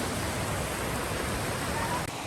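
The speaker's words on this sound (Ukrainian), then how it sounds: "цей міні-міні-водопад, водоспад." A small mountain waterfall in the autumn Carpathians pours in a dense, steady rush of water, loud and close, with no break.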